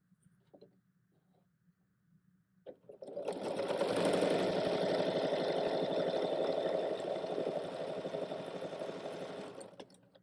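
A sewing machine chain-piecing quilt pieces runs in one steady, loud, continuous whir for several seconds after a few faint handling clicks, with no talking.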